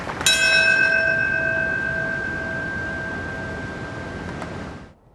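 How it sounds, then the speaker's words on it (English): A single bell tolls at the Ground Zero memorial ceremony: one clear strike rings out and slowly fades over several seconds against quiet background hiss, with a faint second touch near the end. "a single bell tolled, followed by a moment of silence"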